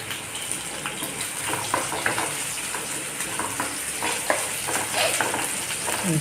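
Onions sautéing in a pan for biryani in a bachelor's home kitchen make a dense, continuous sizzle with frequent stirring scrapes and clicks, close and fairly loud throughout.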